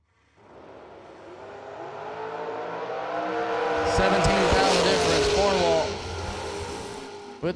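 A 1968 Camaro Roadster drag race car from Charlie Stewart Race Cars, number 508, at a $100K drag race event. The engine builds from a low rumble to a loud, roaring launch with squealing tires, then fades slightly.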